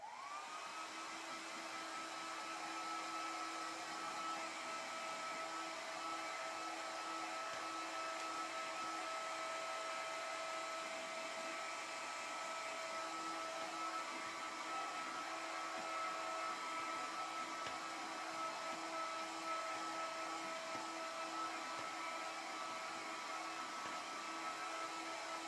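Hair dryer drying poster paint on a children's painting, a steady whining blow of air running continuously at moderate level without talk.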